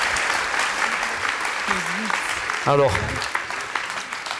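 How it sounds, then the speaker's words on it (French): Applause at a French new-year wishes ceremony, clapping running steadily under a voice, with a brief burst of other voices midway. "On peut l'applaudir, hein."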